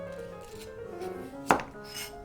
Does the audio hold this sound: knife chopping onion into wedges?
yes